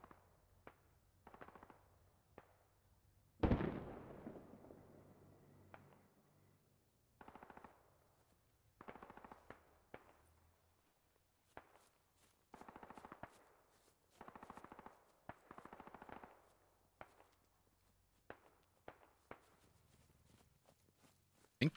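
Bursts of machine gun fire and single gunshots crack in the video game Squad, some near and loud, others distant, with a large blast early on and quiet gaps between volleys.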